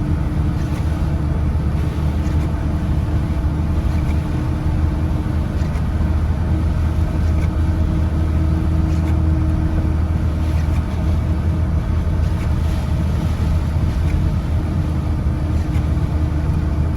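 Heavy rain pours down steadily during a thunderstorm, a loud, unbroken wash of noise with a deep rumbling undertone that continues throughout, with no voices.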